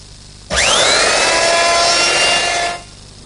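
A router with a quarter-inch round-over bit whines loudly as it cuts along a wood edge, a sustained high-pitched machining sound lasting about two seconds before stopping.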